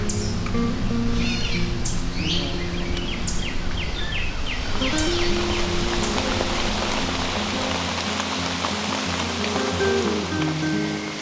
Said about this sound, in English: We ended up getting quite a bit of rain that rolled through the area.